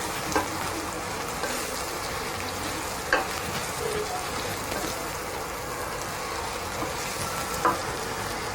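Liver sizzles steadily in a hot pan, a constant crackling hiss like light rain, broken by a few brief clinks of a utensil stirring it.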